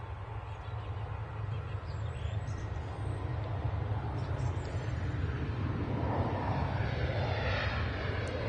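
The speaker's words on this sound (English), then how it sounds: "Ryanair 737 going to Nantes?" A Ryanair Boeing 737 at Manchester Airport gives off a steady, broad jet roar that holds for several seconds at moderate distance, with faint birdsong above it.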